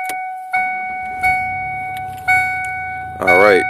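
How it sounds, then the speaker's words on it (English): A car is started while a voltmeter is checked: three or four evenly spaced dashboard chimes ring out, then a burst of engine cranking and firing closes the clip. "Let's see where is that when I turn the car on now."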